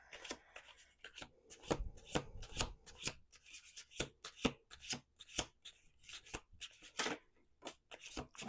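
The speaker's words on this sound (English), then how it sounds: "2 more shuffles." A deck of oracle cards is shuffled repeatedly up close, producing quick, dense bursts of riffling slaps and soft rubbing in an uneven rhythm, with no talking.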